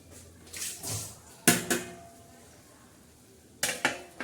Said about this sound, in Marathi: तर चला आता मी त्याच्यावर झाकण ठेवते.